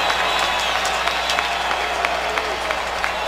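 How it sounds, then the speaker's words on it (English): Stadium crowd at a Ravens home football game against the Texans roaring and applauding as Ray Rice salutes the fans, a dense distant wash of cheering with scattered claps, a commentator's voice faintly over it. "That's the cheering you hear."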